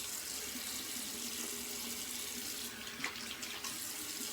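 Tap water runs steadily into a sink while a razor is rinsed between shaving passes, a continuous close hiss with a few faint splashes near the end.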